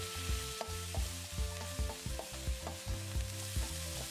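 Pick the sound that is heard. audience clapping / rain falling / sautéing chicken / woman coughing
sautéing chicken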